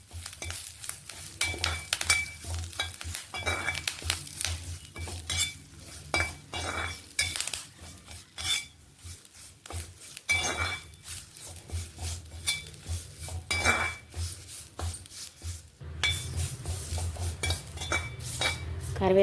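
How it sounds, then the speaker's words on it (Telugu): Curry leaves fry in hot oil in a pan while a metal spoon stirs them steadily, with busy clinks and scrapes of utensil on the pan over a crackling sizzle throughout. "ఇప్పుడు ఈ కరివేపాకు కూడా వేద్దాం. ఈ కరివేపాకు కూడా బాగా ఫ్రై అవ్వాలి."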